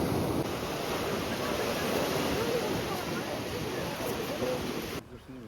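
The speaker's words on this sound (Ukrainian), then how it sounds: "Ось таке тут узбережжя у Тарагоні." Steady crashing surf on the coast at Tarragona, Spain under an overcast sky, continuous broadband wash with wind buffeting the microphone, cutting off abruptly near the end.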